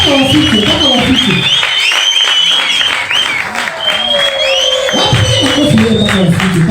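An audience at the Bakora na Wana Fest applauding loudly and continuously, a dense wash of clapping and some cheering that stays steady throughout, with an announcer's voice over it.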